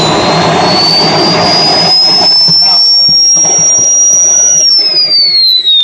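A Swiwin model jet turbine roars loudly up close during preheat, a high whine climbing steadily in pitch, holding, then dropping toward the end over a rushing, crackling combustion noise.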